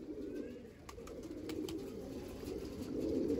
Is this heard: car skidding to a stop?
no